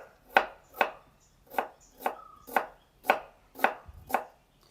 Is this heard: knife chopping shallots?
yes